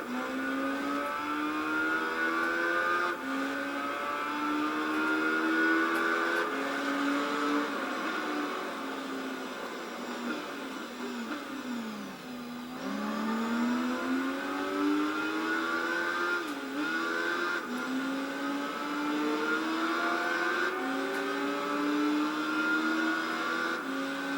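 A race bike engine in the motorcycle game Tourist Trophy whines steadily at high revs for the whole stretch, pitch climbing through gears, dipping once near the middle before rising again, with no voices.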